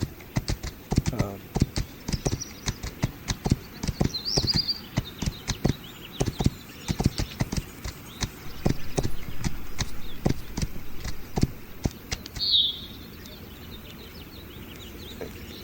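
Horse hooves clip-clop at a walking pace in a video game, irregular clopping steps up close with a few faint bird chirps in the background.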